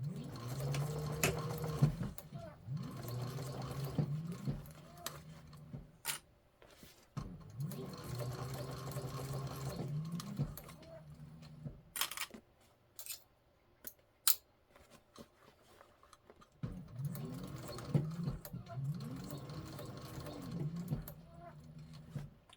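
A sewing machine stitches a handbag, including a short back stitch at the V, running in several bursts of rapid whirring with pauses between and small snips and clicks in the gaps.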